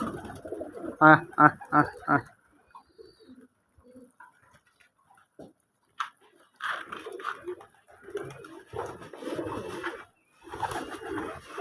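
Domestic pigeons coo in short bursts close by, with a loud cluster at the start, then sparse quiet sounds, then more cooing and rustling toward the end.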